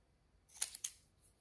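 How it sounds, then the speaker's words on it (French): A pair of scissors cuts through a piece of paper or card while crafting an embellishment, giving two or three short crisp snips close by in an otherwise quiet room. "Il coupe très très bien, cette paire de ciseaux-là."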